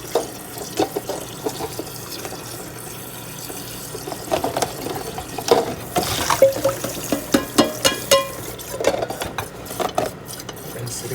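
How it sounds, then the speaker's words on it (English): Water runs and splashes inside a pot as leftover potato bits are rinsed out, with scraping and clinking of the pot against the sink in a home kitchen, close and steady with irregular bursts. "I'm going to rinse this pot because a lot of times the potatoes will stick inside your pot"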